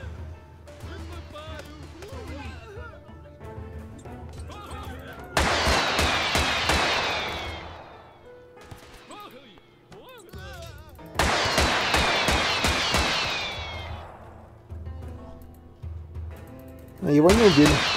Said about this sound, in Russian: Там что-то начинает взрываться.